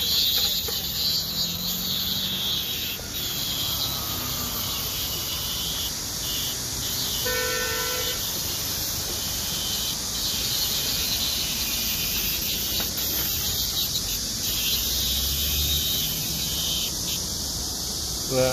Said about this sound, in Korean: 어, 여기로 삼매미가 붙어 있네요.